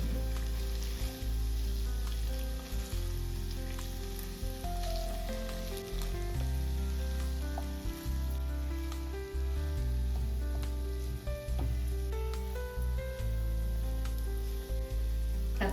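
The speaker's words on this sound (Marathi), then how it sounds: "भाजी आता मिक्स करून घेऊया आपण." Vegetables seasoned with salt are stirred in a hot frying pan, giving a steady, close sizzle broken by repeated scraping and mixing strokes throughout, with no talking.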